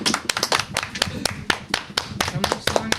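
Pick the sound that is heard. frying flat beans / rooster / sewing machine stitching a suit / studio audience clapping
studio audience clapping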